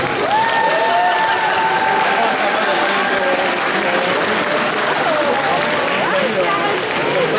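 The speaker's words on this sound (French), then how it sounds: "SF, on lui applaudit très fort" A cosplay contest crowd at SF Connexion 2025 applauds loudly and continuously, a thick wash of clapping mixed with a tonal voice or music line running over it.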